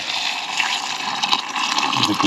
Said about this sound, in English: I use a kettle with just some really hot water